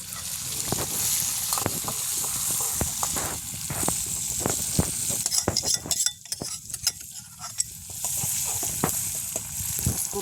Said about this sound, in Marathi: करून घ्यायचं फोडणी